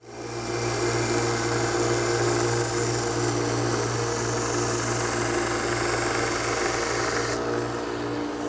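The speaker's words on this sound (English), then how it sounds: "Much easier on a belt sander." A belt sander runs steadily, its motor hum and belt hiss continuous as a small curved wooden bracket foot is sanded under very light pressure, loud and close throughout with no talk.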